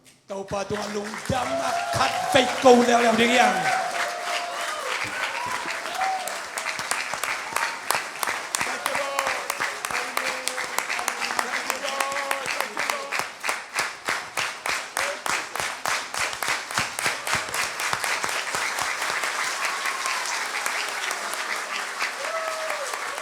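A congregation claps at a revival church service, starting under a speaking voice and then settling into fast, loud, rhythmic unison clapping that carries on steadily for over twenty seconds.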